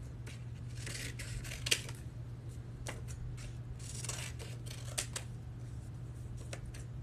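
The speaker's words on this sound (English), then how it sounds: "So I'm just going to cut around it." Scissors trim around a sublimation print for a wine tumbler, with quiet, close, irregular snips and paper rustles over a low steady hum and no talking.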